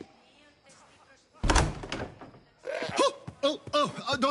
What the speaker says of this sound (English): Open this door or I'll kick it in!